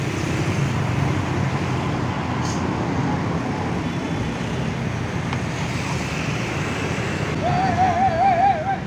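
Road traffic at the exit of Purabaya (Bungurasih) bus terminal in Surabaya, where intercity buses to Malang pull out; a steady, broad rumble of engines and passing vehicles fills the scene, with a brief warbling horn or siren tone near the end.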